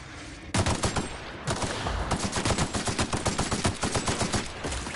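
Sustained gunfire in The Outer Worlds, loud rapid shots in long bursts with a short pause near the start, then continuous repeated firing to the end.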